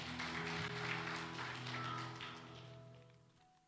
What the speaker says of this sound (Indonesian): Boleh kasih tepuk tangan buat Tuhan.